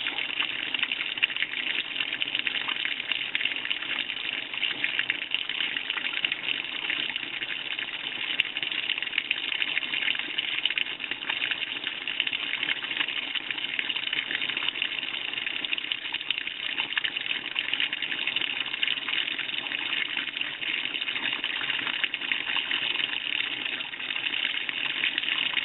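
Soapy water gushes steadily into a container, a continuous broad rushing pour with no pauses, close and fairly loud throughout.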